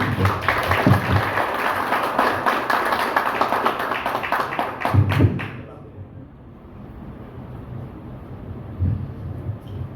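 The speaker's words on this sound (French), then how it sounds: "Applaudissez les citoyens." Crowd at a union's 30th anniversary ceremony applauds in a dense burst for about five seconds, then the clapping stops abruptly, leaving quieter room noise with low murmurs and a few thumps.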